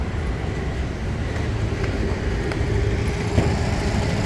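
Road traffic on a cold day, a steady low rumble of passing vehicles with a faint hiss of tyres and a few brief louder swells, continuous and fairly close, with no speech.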